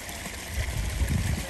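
Water pours steadily into a garden pond, a close, continuous rushing trickle that holds for the whole short moment with no voices.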